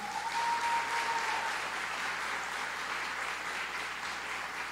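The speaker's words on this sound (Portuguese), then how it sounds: "Vamos dar uma salva de palmas pela vida do João?" A church congregation applauds a visiting young man named João during a service, steady dense clapping held at an even level throughout, with a brief faint tone early on.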